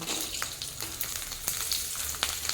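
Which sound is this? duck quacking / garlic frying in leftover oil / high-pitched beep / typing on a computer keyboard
garlic frying in leftover oil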